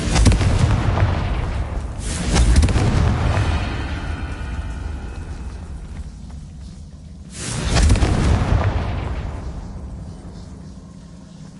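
Two heavy booming fire-blast spell explosions from Hogwarts Legacy, each a loud broad roar that rumbles and fades over several seconds, with no voices over them.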